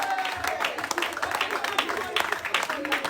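Church congregation clapping continuously to acclaim the Lord during a worship service, a dense, steady wash of hand claps with voices and singing mixed in throughout.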